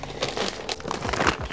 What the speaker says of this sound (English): we're gonna open up the charcoal bag